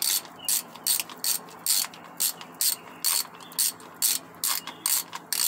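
Ratchet loosening transmission pan bolts on a Ford F250 with an E40 transmission. A steady, close run of quick clicking bursts repeats roughly twice a second, with no talking.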